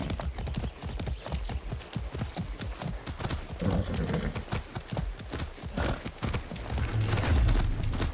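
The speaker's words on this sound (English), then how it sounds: "That's a good horse." Horse hooves clip-clop at a steady trot in the Far Cry 6 video game, a continuous rhythmic series of close thuds with a brief snort near the end.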